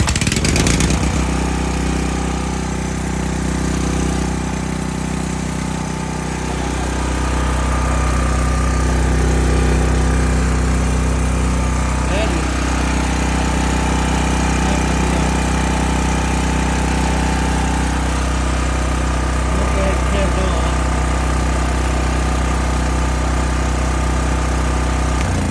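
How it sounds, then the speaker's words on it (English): A Sportsman 4000 generator engine idles continuously after starting on the first pull, a loud, steady mechanical drone close by with a constant low hum throughout. "I can't believe it started on the first crank."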